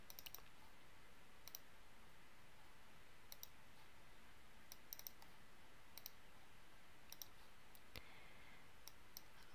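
Faint, sparse computer mouse clicks sound in a quiet room while layer colours are set in Rhino on a Mac, single and double clicks spaced irregularly over a low background hiss.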